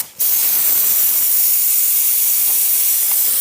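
A spray gun lays down Raptor liner texture coating at 60 PSI, making a steady, loud, continuous airy hiss that starts abruptly after a brief pause and holds evenly throughout.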